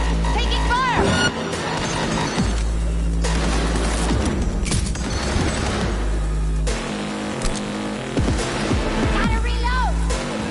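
A Cyberpunk 2077 firefight, with bursts of gunfire cracking repeatedly and loudly over a constant low rumble, while voices talk throughout.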